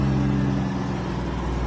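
A semi-trailer truck with an Eaton Fuller gearbox, its diesel engine held at about 1500 rpm, a close, steady low throbbing hum with no talk.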